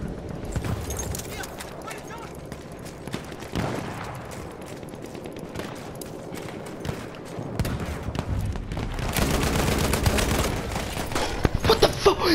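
Gunfire from a weapon in the first-person shooter Battlefield 1, sounding as dense, rapid bursts and shots that grow louder and busier toward the end over a constant bed of game noise.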